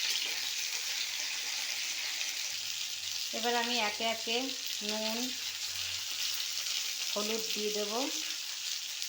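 Beans, potato and radish fry in a pan with a steady, continuous sizzle, while a voice speaks intermittently over the cooking.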